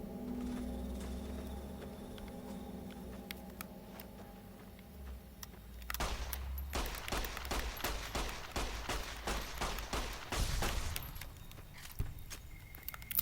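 Rapid gunfire in the video game Fallout: New Vegas, a fast string of sharp shots for several seconds after a quieter stretch of ambient game sound, fairly faint overall.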